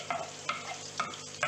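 Butter melting in a very hot kadai with the stove switched off, a steady soft sizzle broken by four light scrapes of a spoon stirring around the pan.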